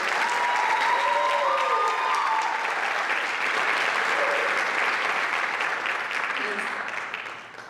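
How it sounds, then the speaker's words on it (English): Sustained audience applause at a high school Black History Month program, loud and dense for several seconds before tapering off at the end, with a few voices and cheers mixed in. "So let's give a round of applause to our ancestors that did this."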